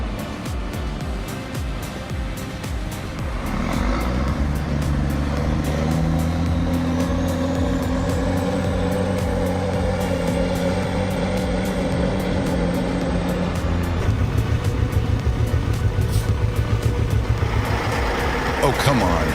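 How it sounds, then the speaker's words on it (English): Heavy logging truck and bulldozer engines working on a muddy, slippery dirt road, a loud, continuous diesel drone with a deep rumble rising to a steadier labouring tone midway, with scattered clanks and creaks over it. "we've got this awesome dozer and truck to get the job done"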